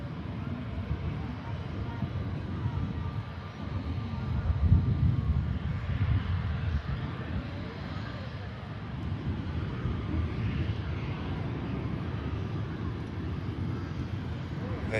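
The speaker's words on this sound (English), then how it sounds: "Virgin continuing its taxi now" A Virgin Airbus A330 taxis at an airport, giving a steady, continuous low engine rumble with a soft broadband roar that holds at an even, moderate loudness throughout.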